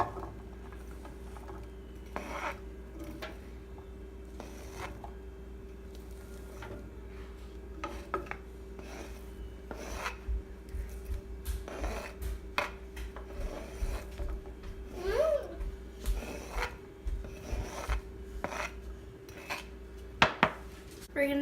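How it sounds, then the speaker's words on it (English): Vegetables drop into a pan of hot extra virgin olive oil, with repeated clinks, knocks and scrapes of cookware close by over a steady low kitchen hum, the clatter growing busier toward the end. "we've put our extra virgin olive oil into the pan. So let's get these"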